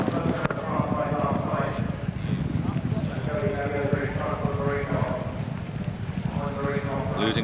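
Racehorses gallop in a race with steady rapid hoofbeats throughout, heard under continuous race commentary.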